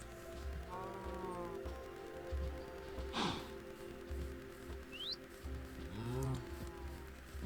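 A video game cow moos in several drawn-out, nasal lowing calls over a steady farmyard ambience, with a short bird chirp between the calls.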